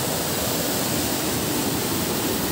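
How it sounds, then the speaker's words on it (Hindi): Rushing mountain water in full spate near a Himalayan temple in Uttarakhand: a loud, steady broadband roar filling every moment, close and unbroken, with no voices. "पानी अपने उफान पर है"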